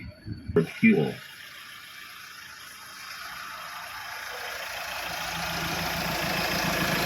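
A 2015 Mahindra XUV500 W10 idles with a low, steady engine hum that swells slightly over several seconds, after someone speaks briefly at the start.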